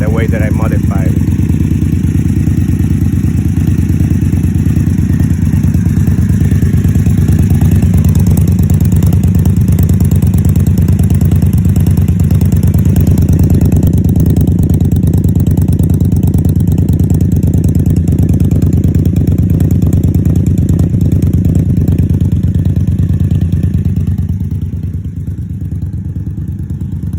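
An Indian Scout Sixty motorcycle fitted with Vance and Hines grenade exhaust idles steadily after a cold start, a loud, close, continuous throbbing rumble that holds for nearly half a minute before easing slightly at the end.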